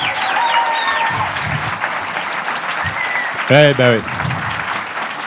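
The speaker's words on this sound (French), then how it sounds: "j'aimerais qu'on les applaudisse un tout petit peu plus fort" An audience at a film festival awards ceremony in Brive applauds in a steady, moderate patter of many hands throughout, while someone briefly speaks over it.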